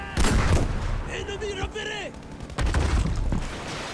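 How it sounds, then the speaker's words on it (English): Explosions and gunfire in the video game Battlefield V, opening with a loud booming blast, then scattered shots and rumbling, and a second heavy burst of fire near the end. "I barely survived that explosion."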